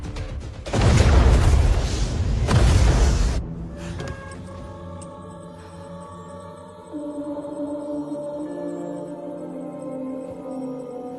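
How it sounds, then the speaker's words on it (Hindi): A deep, loud missile explosion erupts and rumbles heavily for a few seconds, then fades into a lingering low drone with faint tonal music beneath. "सॉरी सर, मिसाइल लॉन्च हो चुकी है। 30 सेकंड में धमाका हो जाएगा।"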